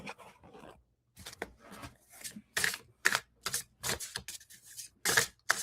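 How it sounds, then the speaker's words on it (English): A deck of tarot cards shuffled loudly by hand, giving a series of sharp, crisp riffling bursts with short pauses between them, close and without talk. "I feel like my cards are so loud when I shuffle."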